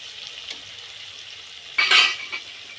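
Soybean and egg curry with chopped green chili fries in a pan under a faint background sizzle. A spatula scrapes and stirs in one short, louder burst near the end.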